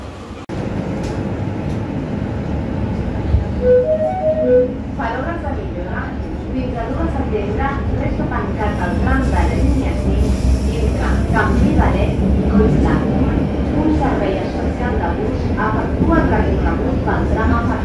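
A Barcelona metro train rumbles and hums steadily with rail noise throughout, its sound close and continuous, while people talk in the background over the ride.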